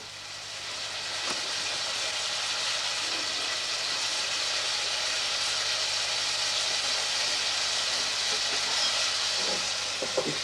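Plums stirred in a pan for a honey crumble give a steady broad hiss of steaming, sizzling fruit, with faint scraping and a few soft knocks, continuous and close.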